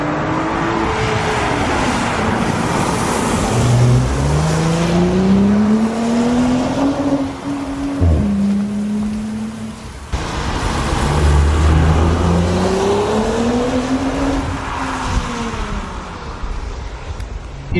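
Audi S5 coupé (B9) with Quattro driven hard on a road test, its engine revving up through gears in rising, falling sweeps with gearshift dips, loud and steady from inside or close by, no talking.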